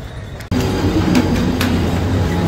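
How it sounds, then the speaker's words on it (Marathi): A Mumbai local train pulls into the station with a sudden loud, steady rumble of wheels and carriages that starts after a brief quieter moment and continues to the end. "चला गाईज आपली ट्रेन आली आहे।"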